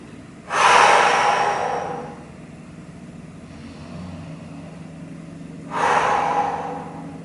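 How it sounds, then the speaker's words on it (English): Two deep breaths about five seconds apart, each a loud, close airy rush that swells and fades, heard alone during a cool-down after a core workout. "take a deep inhale through the nose,"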